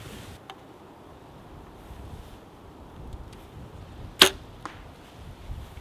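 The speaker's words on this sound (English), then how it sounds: "you could hear them, the fletchings hit that time." A single sharp arrow impact as the fletchings smack into an archery target after a quiet stretch of faint outdoor wind noise, followed by a softer trailing tick.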